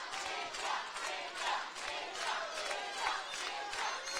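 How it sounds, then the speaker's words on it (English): Crowd noise at a corporate fight night, a fairly faint, steady wash of cheering and shouts behind both fighters, with periodic swells and low thuds underneath. "You can hear the crowd getting behind both fighters"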